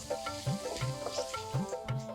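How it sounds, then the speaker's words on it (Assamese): Onions fry in a pan, a quiet steady sizzle broken by rhythmic scraping strokes of a spatula stirring them, heard close up with no talk. "পিঁয়াজখিনি দি অলপ সময় ভাজি ল'ম, পিঁয়াজখিনি ৰঙচুৱা হোৱালৈকে"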